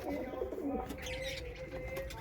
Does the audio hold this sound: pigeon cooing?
yes